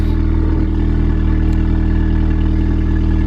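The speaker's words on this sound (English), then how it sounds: "So this is a Miltech Sports Cat and a Miltech non-res race system." Car idling on a cold start through a Miltech sports cat and non-resonated race exhaust, a loud steady low throb with a faint rattly edge, running alone without talk.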